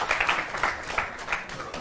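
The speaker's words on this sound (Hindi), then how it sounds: "बहुत जोरदार तालियां आप गुरु के लिए बजाएं" A studio audience applauds a boy quizzed on world flags, a dense wash of clapping with uneven peaks that carries on for the whole stretch.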